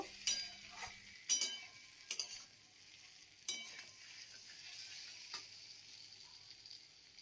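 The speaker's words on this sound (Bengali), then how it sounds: "এখন ভেজে রাখা আলু আর পটলটা আমি মশলার মধ্যে দিয়ে দিয়েছি আর মশলার সাথে আমি ভালো করে কষিয়ে নেব" Pre-fried potato and pointed gourd being sauteed in masala in a pan, a faint steady sizzle with a few sharp spatula taps and scrapes, quiet and without talk.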